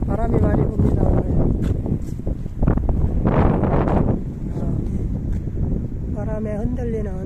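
Strong wind buffets the microphone outdoors beside a field of swaying reeds during a walk with a dog, a steady rumbling roar that runs throughout, with a person talking over it at times.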